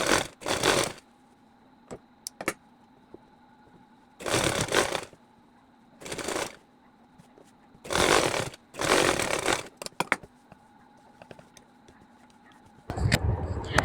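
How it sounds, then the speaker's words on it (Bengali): Sewing machine topstitching gathered fabric on a child's dress, heard in several short loud bursts of rapid mechanical whirring separated by quiet pauses. "এটার মধ্যে একটা চাপ সেলাই দিয়ে দেবো উপরে"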